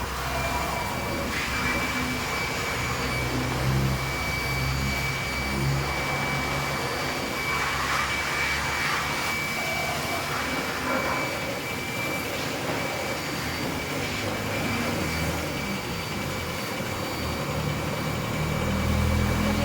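A steady, loud rushing hiss of a power sprayer cleaning a Toyota Hilux fuel pump runs continuously with a faint high whine, no talking.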